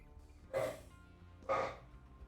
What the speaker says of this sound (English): It's barking time.